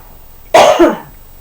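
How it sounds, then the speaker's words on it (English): A single harsh cough bursts out close by, a short rasping fit of about half a second that quickly trails off into quiet. "It Makes me cough for ages."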